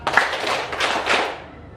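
Hand claps from a classroom clapping game, several sharp, fairly close claps in quick rhythmic succession over a roomy background.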